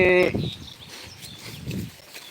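Cattle low briefly at the start, followed by quieter outdoor farm ambience with faint rustling and distant animal sounds.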